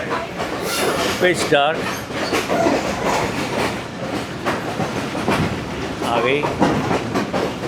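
A Pakistan Railway express train, the 33UP Pak Business Express, rumbling across the Mehran bridge over the Indus River at night, heard from inside with loud continuous rolling clatter and occasional squeals while someone talks over it.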